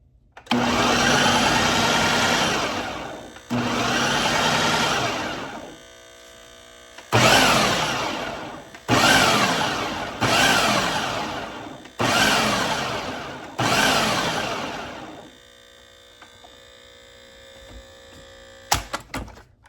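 A food processor pulses diced ham and onion for Southern ham salad in seven loud bursts of a few seconds each, with short silent gaps and a final click at the end.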